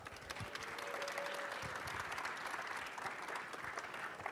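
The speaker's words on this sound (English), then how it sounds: "Please give them a round of applause." A conference audience applauds competition winners with steady, dense clapping that holds evenly throughout, heard from within a large hall at moderate volume.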